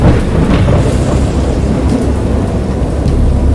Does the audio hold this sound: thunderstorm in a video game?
yes